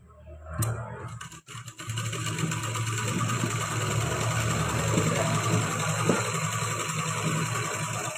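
A sewing machine runs in a steady, close, continuous whir as it stitches the seams of a salwar, after a brief start at the beginning.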